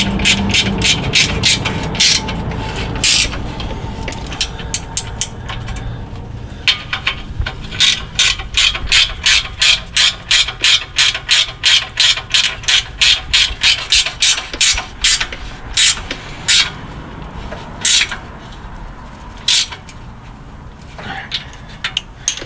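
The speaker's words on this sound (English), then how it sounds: "I also like to use a end wrench when I'm installing my rear collector bolts, so that I can make sure that I don't cross thread anything." An end wrench turns the rear collector bolts on a 6T70 transmission, a long run of quick metallic ratcheting clicks in regular bursts, close and loud, with some handling noise at the start.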